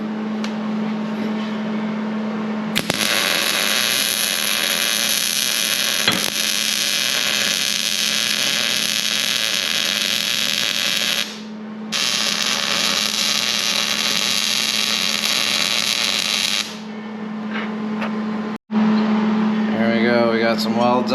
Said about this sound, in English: We're gonna weld this solid now.